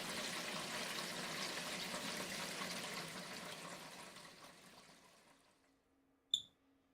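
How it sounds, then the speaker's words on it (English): Water gushes steadily from a small decorative fountain in a video game, a broad rushing spray that fades out over several seconds, ending with a bright chime. "I wonder if water comes out of it."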